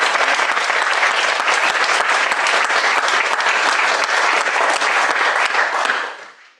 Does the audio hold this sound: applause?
yes